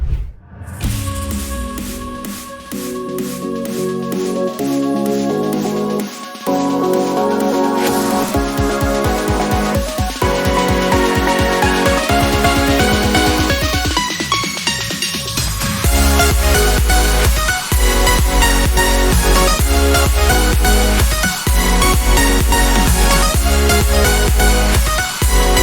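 An emotional progressive house drop made in FL Studio plays loud and continuous, with layered synth chords building over a steady kick-driven beat.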